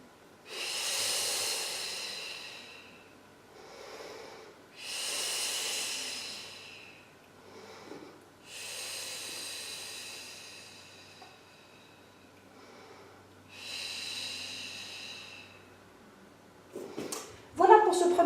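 Slow, deliberate breaths during a home Pilates core-strengthening exercise, four long airy exhales with quieter inhales between, close and fairly soft, ending in a brief rustle of movement.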